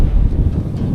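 Wind gusting across an open hilltop campsite near a windmill in Pakil, Laguna, a steady loud low rumble buffeting the microphone for the whole moment, with no talk.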